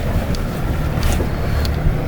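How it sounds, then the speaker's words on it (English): A BMW X7 six- or seven-seater SUV drives through a river, with a steady, dense rumble of engine and rushing, churning water, plus a few brief splashes near and loud throughout. "6 or 7-seater car, we're driving through a river"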